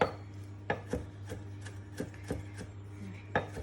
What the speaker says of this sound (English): I'm just going to roughly chop it all together